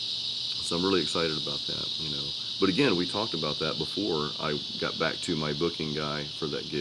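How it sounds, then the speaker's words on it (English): Loud, steady buzzing of cicadas fills the outdoor background on a patio, a continuous high drone running beneath a man's speech throughout. "I think those are cicadas or something like that, but they're loud."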